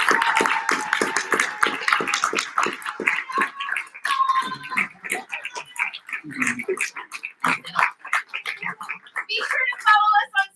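An audience at a showcase the night before a national competition cheers and claps in a burst of applause and whoops, loud and close, with shouts rising and falling over several seconds.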